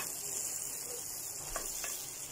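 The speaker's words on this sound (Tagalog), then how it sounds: "This is my way of cooking French toast." French toast, egg-soaked bread, sizzling in a hot pan: a steady, close crackle of frying with a couple of brief louder pops, no voices.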